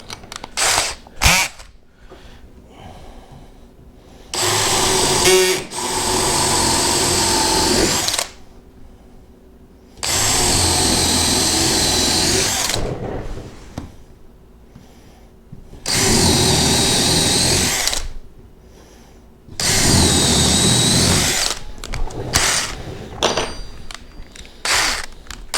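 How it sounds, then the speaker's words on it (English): A power drill bores holes into wood while building the walls of a DIY camper, whirring loudly in four sustained bursts of several seconds each, separated by quieter pauses with handling noises. "When you drill this hole down, make sure that it's not so far"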